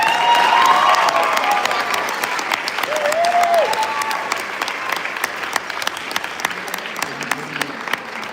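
An audience at a high school Air Force JROTC annual awards ceremony breaks into sustained applause for the seniors' families, dense clapping filling the room and gradually thinning toward scattered claps with a few whoops.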